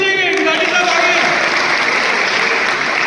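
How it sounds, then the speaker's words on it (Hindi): Loud, sustained audience applause fills a water-conservation awareness event in Kathua, a dense wash of clapping with voices faintly underneath. "तालियां नहीं रुकनी चाहिए"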